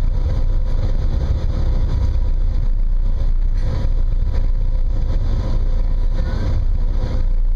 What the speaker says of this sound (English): you probably can't even hear me because of the loud engine